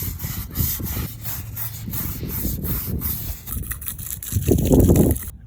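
Rust and dirt are scrubbed off a car wheel with a steady back-and-forth rasping rub in repeated strokes, close up, growing heavier and louder toward the end.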